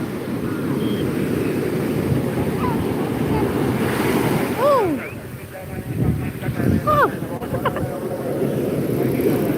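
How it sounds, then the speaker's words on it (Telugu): Ocean waves crash and roll in continuously with gusty wind rushing over the microphone and a brief faint voice. "ఇంత పెద్ద పెద్ద అలలు వస్తున్నాయో"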